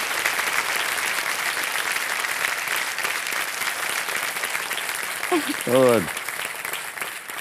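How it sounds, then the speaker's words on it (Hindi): Strong sustained applause from a studio audience on the Kaun Banega Crorepati set, dense clapping that runs throughout, with a short spoken word breaking in near the end. "तालियां बज जाए इनके लिए"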